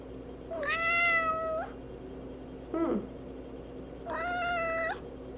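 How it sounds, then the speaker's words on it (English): A cat meows loudly right beside the camera, two long drawn-out calls with a shorter, fainter sound between them, indoors and with no talking. "I think this cat's gonna come over and bite me."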